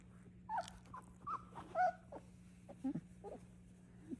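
Young puppies give faint, scattered whimpers and soft high squeaks over a low steady hum, several short cries spaced irregularly.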